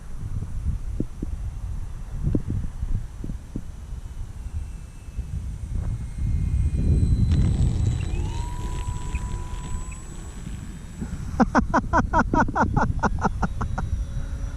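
A HobbyZone Carbon Cub S2 RC airplane flies near a runway, its electric motor whining with rising and falling pitch over gusty wind noise, heard from moderate distance with some low rumbles and clicks toward the end.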